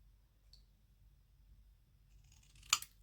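Scissors snip patterned paper for a handmade Christmas card: one quiet, sharp cut near the end, with a faint tick earlier and near-silence otherwise.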